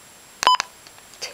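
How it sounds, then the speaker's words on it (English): Short electronic button beeps from a Midland NOAA weather radio: two quick close beeps in succession, then a fainter blip, against a quiet background. "I turn off the button beeps."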